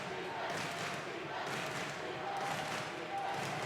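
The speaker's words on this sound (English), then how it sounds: "we have a foreground cluster of teen cheers" A dense layered cluster of teenage cheering and excited shouting, a foreground crowd burst sustained loudly throughout with rising and falling swells.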